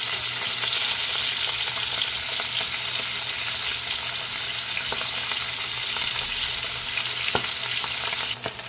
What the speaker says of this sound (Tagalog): lagay na natin ang ating salmon belly. Lagyan natin ng rosemary leaves